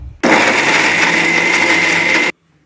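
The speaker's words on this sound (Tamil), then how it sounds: "மிக்சியில் போட்டு நம்ம குறப்பாக அரைச்சி எடுத்துகிட்டு வந்துட்டோம்." A kitchen mixer grinder loudly grinds roasted peanuts and spices into powder for a raw banana masala fry, one steady high-pitched whirring burst of about two seconds that starts and stops abruptly.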